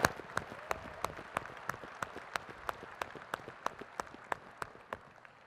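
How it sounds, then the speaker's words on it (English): Conference audience at a general session applauding demo presenters, a thin, fairly quiet patter of claps with regular sharp individual hits standing out, steady throughout with no talk. "Please join me in giving another round of applause to Carl, Justin, Katie, Lisa, and Brianna."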